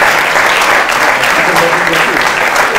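A Purim lecture audience claps for volunteers, a brief burst of loud, dense applause that fills the room evenly from start to finish.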